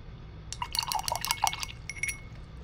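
A paintbrush rinsed in a water cup while painting on wine glasses, a short burst of quick glassy clinks and watery swishes as the brush taps the container, close and fairly quiet in a still room.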